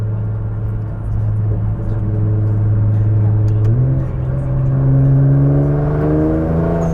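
A loud, modified Nissan GT-R R35 engine with downpipes, intakes and blow-off valve idles with a deep drone, then its pitch steps up and climbs as it revs, heard from outside.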